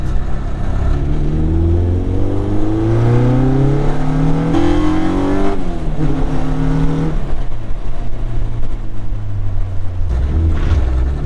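A Honda CRX engine with a 4-puck unsprung single-disc clutch revs hard while driving, its pitch climbing and dropping through several gear changes in a loud, continuous in-car drone.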